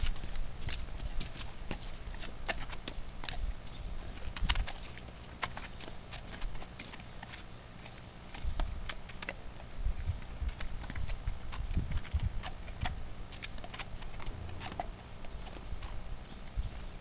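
A horse walks with a steady, rhythmic clip-clop of hooves, fairly quiet and continuous, with some light shuffling between steps.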